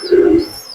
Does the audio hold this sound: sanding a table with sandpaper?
no